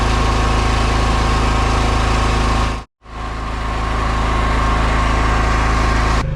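Petrol generator running inside a noise-reducing enclosure, heard from about 2 metres away as a loud, steady mechanical drone that cuts out for a moment and then resumes, with no talking.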